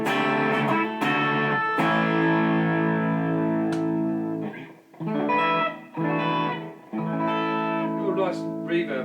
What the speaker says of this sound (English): it's got a little bit of distortion there